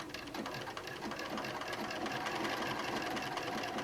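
A sewing machine stitches over a quilt applique with a steady, rapid mechanical chatter at a constant pace throughout, close and unbroken, with no voices.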